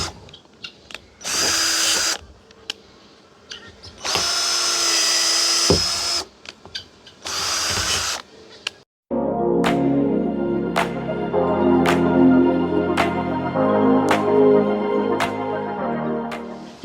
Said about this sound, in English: So I'm just drilling the holes in a pattern